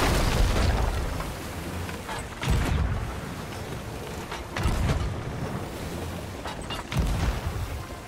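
Cannons fire from an enemy sailing ship in a pirate-ship video game, with three heavy booms spaced a couple of seconds apart, each ringing out over creaking and rumbling.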